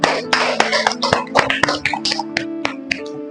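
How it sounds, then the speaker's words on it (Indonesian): Classroom of students applauding together in a lesson, a burst of irregular hand claps lasting a few seconds with uneven, close rhythm and no talking over it. "Tepuk tangan untuk kita semuanya."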